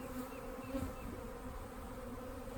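Honeybees buzz around an open hive, a steady dense droning hum close by, with no talk over it.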